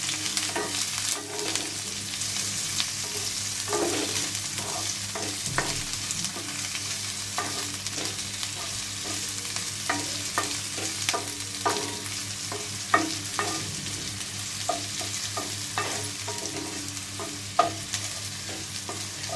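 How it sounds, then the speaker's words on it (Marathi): Curry leaves and onion sizzle in a pan while a spoon stirs them, giving steady frying hiss with frequent clicking scrapes against the pan throughout, close and continuous, with no voices. "आणि छान असं हलवून घ्यायचं."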